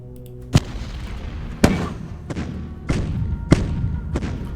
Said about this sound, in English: I am going to bombard that area